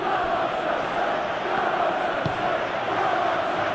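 Football stadium crowd in the PES 2021 video game cheering and roaring steadily, a dense continuous wall of voices that swells slightly without pause.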